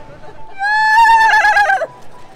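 A horse on a Prague street gives a single loud, close whinny lasting about a second, rising and trembling before breaking off, with faint street noise around it.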